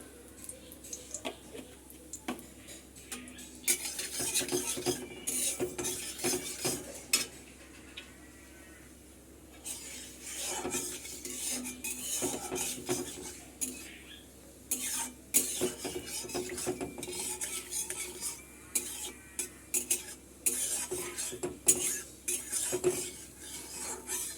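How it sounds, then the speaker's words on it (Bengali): Black cumin and dry red chilies frying in oil in a pan, with frequent scraping and clinking of a spatula stirring against the metal over a soft sizzle, close and intermittent. "ফোড়নটা একটু ভাজা ভাজা করে নেব।"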